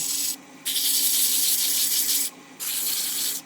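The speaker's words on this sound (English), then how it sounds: "Every step of the sanding process is preparing the wood" Close, steady hand sanding of cherry wood: long hissing rasping strokes with two short pauses between them, no voices.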